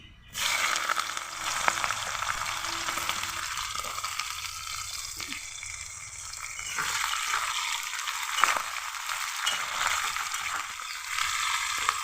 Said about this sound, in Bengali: ভালো করে লাল লাল করে পেঁয়াজগুলোকে ভেজে নেব।